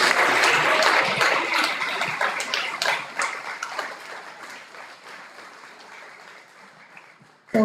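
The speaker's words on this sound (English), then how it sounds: "Show how many of you are here, that we can applaud for you" An audience at a European university alliance conference applauds students standing up, with loud, dense clapping at first that gradually thins and fades over several seconds.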